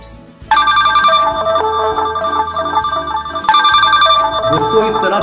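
A forest jungle mobile ringtone plays loudly. A layered melodic phrase starts after a brief pause and repeats about three seconds later, with no speech over it.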